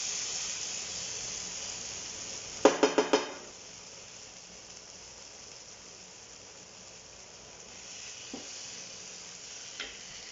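Burger meat sizzles on a griddle with a soft, continuous hiss, broken early by a quick burst of four sharp scraping or clattering hits and later by a couple of faint clicks, with no talking.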